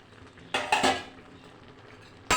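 Metal pot lid lifted off a pan of spinach with dried lentil dumplings, followed by a couple of short scraping stirs with a utensil, close and clear against a quiet kitchen.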